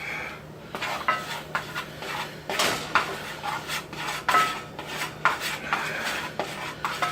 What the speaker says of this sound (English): you just keep it stirring, almost like you're making a roux